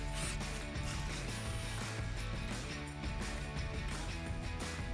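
A ratchet with an extension turns a 10 mm bolt on a brake line bracket of a 2019–2022 Chevrolet Silverado 1500, producing rapid, quiet, repeated clicking with mechanical rattles, close by and without talk.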